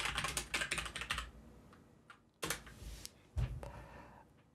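Rapid bursts of typing on a computer keyboard while renaming a folder, close and crisp, with a flurry of keystrokes, a pause, then a few scattered key presses.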